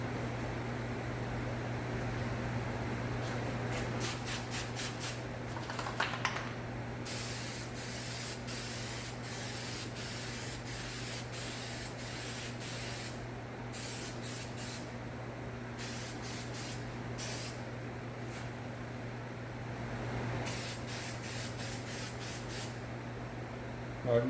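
A spray gun lays paint coats on a 2015 Honda Accord Sport's replacement door and fender, steady hissing bursts starting and stopping over a constant low hum of a fan or compressor, moderately quiet with no talking.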